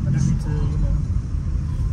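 A borrowed manual car drives to the hospital on a rainy day, its low road rumble and engine drone steady and close inside the cabin while people talk.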